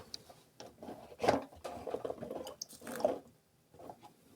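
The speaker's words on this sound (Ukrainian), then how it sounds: "нам потрібно сюди зовсім трошки води. Зараз спробую націдити." A small trickle of water is poured into a cup of instant coffee grounds for painting, heard as a few short, soft liquid splashes and squishy pours up close.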